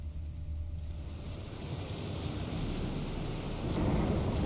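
Steady rain pours down with a deep rumbling undertone of thunder in a stormy outdoor scene in The Witcher 3, filling the air as a broad, continuous wash that swells slightly louder toward the end, with no voices.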